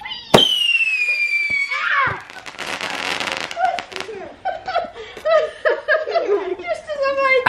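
Bonfire Night fireworks: a rising whistle, then fizzing crackle and bursts of firework pops, mixed with people laughing and chattering excitedly.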